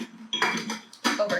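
A plastic lid set onto an ice cream maker bucket, giving a few clattering knocks and scrapes close by, with short bursts of hard contact separated by brief pauses.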